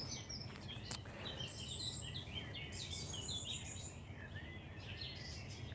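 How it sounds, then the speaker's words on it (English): Birds chirp and sing in short bursts in the woods over a soft, steady outdoor hush, fairly distant and gentle, with no voices. "Let us know if you can hear the birds where you are"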